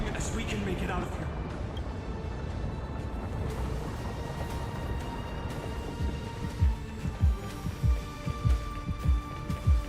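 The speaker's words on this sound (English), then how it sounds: "Why do I hear the heartbeats?" Heavy, low thumping heartbeats in the Honkai Star Rail video game, rising out of a dense rumbling musical score in the second half as a series of evenly spaced, loud throbs.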